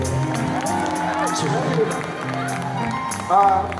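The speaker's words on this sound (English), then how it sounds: "Please give a huge round of applause to Viva, ladies and gentlemen." An audience claps and cheers for a performer at a live energy and dance event, a steady wash of applause with brief whoops, rising in a short burst near the end.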